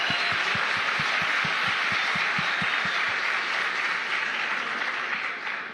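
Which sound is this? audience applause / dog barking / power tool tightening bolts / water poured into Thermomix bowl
audience applause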